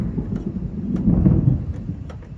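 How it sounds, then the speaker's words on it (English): Thunder rumbles low and steady with a continuous rolling growl over rain, no voices, during a stormy spell of weather. "slowing it down so you can hear the thunder."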